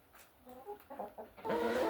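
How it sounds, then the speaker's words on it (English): Hens cluck and chatter inside a hen house on a small farm, several overlapping calls building to a louder, busier flock at close range. "show you the chicken keeping chores I've been doing here in the hen house with this group of hens"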